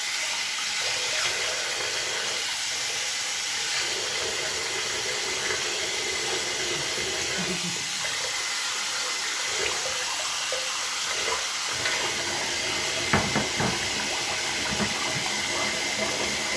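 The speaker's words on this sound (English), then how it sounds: "I'm going to rinse out my razor and my brush real quick." Cold tap water runs steadily over a razor and shaving brush at a bathroom sink, a continuous hiss with a few brief splashes and clinks near the end, no talking.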